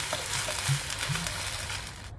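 Fenugreek greens sautéing in a pan for a traditional Maharashtrian methavani, giving a steady close sizzle and soft frying crackle for about two seconds, alone with no voices.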